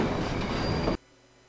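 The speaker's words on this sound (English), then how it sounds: "you can teleport on top of the train while it's moving" A moving train in the Hitman Codename 47 video game rumbles loudly and steadily with a rolling rail clatter, then cuts off abruptly about two-thirds through, leaving near silence.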